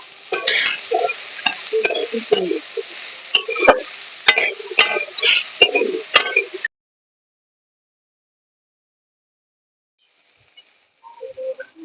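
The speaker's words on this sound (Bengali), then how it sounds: "এবার চিংড়িটাকে ভালো করে নেড়ে ভেজে নেব" Shrimp stirred and fried in a pan with salt and turmeric: crackling sizzle broken by sharp, rhythmic clacks of a spatula against the pan, close and busy for several seconds before falling silent, with faint clatter near the end.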